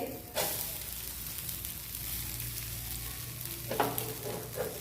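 Poha and semolina amboli pancake cooking on a hot griddle, a steady soft sizzle and hiss running throughout with a couple of brief scraping clicks near the end, close by and moderately quiet.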